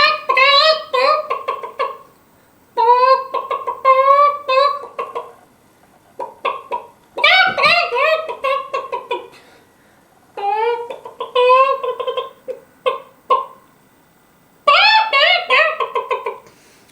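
A man imitates a chicken with his voice, bursts of clucking and squawking in several bouts separated by short pauses, close and loud.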